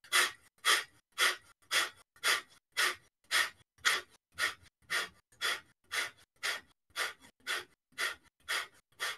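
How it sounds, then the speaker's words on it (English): Forceful breathwork exhales, each one a sharp, nose-blowing-like puff of air, repeat in a steady quick rhythm of about two per second, close and alone with no talk. "Forcefully letting the exhale out,"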